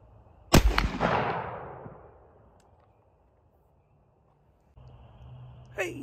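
A single sharp, loud gunshot from an M6 multi-caliber survival rifle cracks close by and rolls away in a long fading echo, followed by quiet and then a brief rustle.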